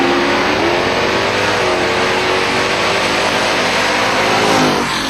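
Drag race cars launch hard off the starting line at Silver Dollar Raceway, a Camaro pulling ahead, with loud sustained engine roar and revving close by throughout.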